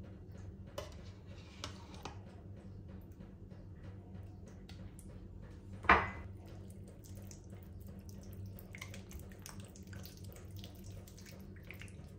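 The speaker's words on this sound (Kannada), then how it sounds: "ಒಂದು ಸ್ವಲ್ಪನೇ ನೀರು ತಗೊಂಡು ಅದನ್ನು ಮಿಕ್ಸ್ ಮಾಡಿಕೊಂಡು ಬರ್ತೀನಿ" Water is poured into 3-4 spoonfuls of curd and stirred in a home kitchen, a faint, steady trickling and mixing over a low hum, with one sharp clink near the middle.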